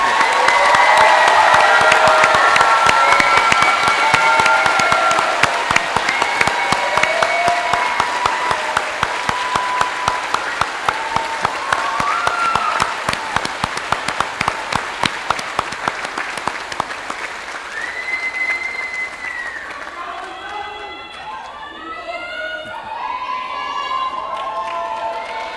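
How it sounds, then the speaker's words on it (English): A crowd gives long, sustained applause with cheers and whoops for the 2020 graduates at a Chestnut Hill College commencement, loud and continuous throughout, with shouted cheers rising over the clapping. "A round of applause for all the 2020 Prince Vernon graduates."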